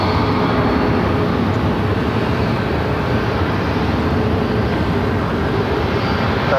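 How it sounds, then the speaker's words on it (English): A Southwest Boeing 737-800 lands on runway 8 at Phoenix airport with a loud, continuous broadband engine roar and rumble that stays steady throughout. "Next arrival here on runway 8. Charlie's favorite, Southwest. Oh yeah, it's flight 962 coming in from Albuquerque. And a 737-800."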